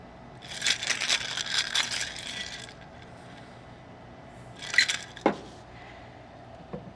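Cocktail strained over ice into a glass: a long bright rattling pour and splash of liquid over ice cubes, followed by a few clinks and a sharp knock of glass, close and moderately loud.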